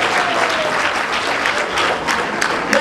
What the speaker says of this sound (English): Clap for Baba Buhari ahead.